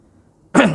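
A single short, loud throat clearing bursts out suddenly after near silence and ends abruptly.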